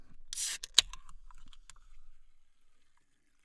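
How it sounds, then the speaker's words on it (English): Freshly poured Diet Pepsi fizzes right against a sensitive microphone, a soft crackle of tiny bubbles popping that is busiest at first and thins out over a few seconds. "You can hear all those bubbles popping."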